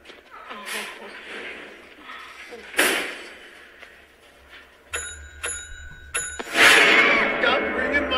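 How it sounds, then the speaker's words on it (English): Several bright bell rings in quick succession, like a small counter or bicycle bell, with voices and background noise around them. "Stop ringing my damn bell!"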